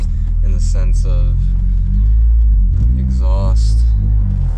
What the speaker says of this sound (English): It sounds more proper through the exhaust though